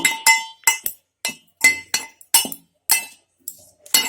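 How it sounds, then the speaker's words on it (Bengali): A spoon clinks sharply against a glass bowl while salt, turmeric and chilli powder are stirred together, about a dozen crisp, close taps in an uneven rhythm. "ভালো করে একটু মিশিয়ে নেব"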